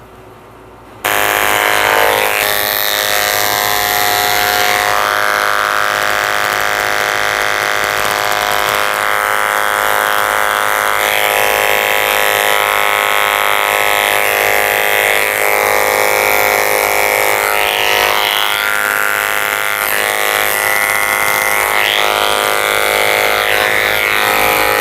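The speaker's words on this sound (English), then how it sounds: "I'm going to shave the rest of his face with a 10 blade" Electric grooming clippers fitted with a 10 blade shave the face of a toy poodle, starting after a brief quiet moment and then running as a steady, close, continuous motor buzz for the rest of the clip with no talking.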